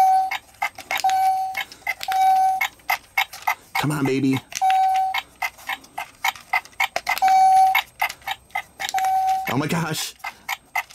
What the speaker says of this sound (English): Oh, the timer's going faster.